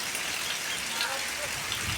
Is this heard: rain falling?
yes